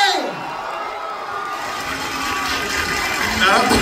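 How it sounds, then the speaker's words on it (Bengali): A large crowd claps and cheers together, a dense, steady roar of applause that swells slightly toward the end, with voices mixed into the noise. "জোরে হাততালি হবে সবাই মিলে।"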